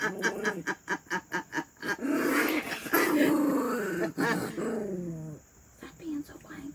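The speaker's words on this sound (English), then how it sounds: "That growling is mostly to do with Bambi, but he knows he's crazy" A dog growls and grumbles close by in a home, with a string of short rhythmic huffs leading into longer rising and falling growls, voiced vocal sounds mixing in.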